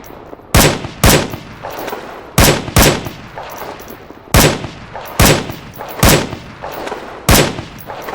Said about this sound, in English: Now when I pull the trigger, it fires one bullet.